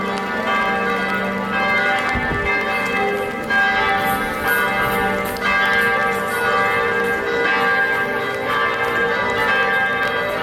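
Church bells ringing in Florence, Italy, loud, overlapping metallic peals with repeated strikes and a long ringing decay, heard close and alone with no talk.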